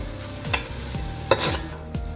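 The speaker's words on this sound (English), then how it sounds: "to let that sizzle there" Garlic and hot pepper slices sizzle steadily in a hot pan, with a few soft scraping stirs of a utensil breaking through the crackle.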